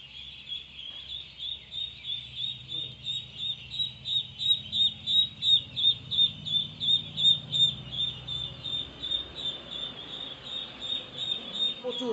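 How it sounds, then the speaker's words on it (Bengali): Many ducklings at a government duck farm, kept on a bed of rice husks, peep continuously in a dense, high chorus with a steady pulsing rhythm, loud and close. "প্রচুর হাঁসের বাচ্চা আছে এখানে।"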